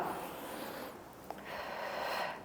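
A person inhales sharply through the nose during an exercise workout, a close breathy intake with a brief snort-like catch partway through, heard alone without talk.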